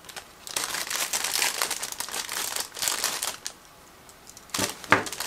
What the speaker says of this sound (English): I'm going to use the scissors in order to open this sealed plastic bag.